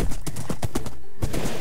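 A horse's hooves clip-clop in a quick, uneven rhythm in the Minecraft video game, a soft run of steps over a constant background wash.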